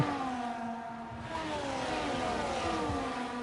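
Ferrari race cars in a racing video game rev loudly and steadily, with engine tones rising and falling as several cars drone together up close.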